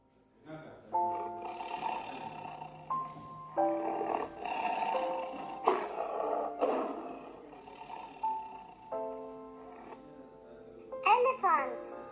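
Children voice a tiger's roar in a grade 2 animal-sounds lesson, several broad noisy bursts of imitation standing out between stretches of steady, tonal background music.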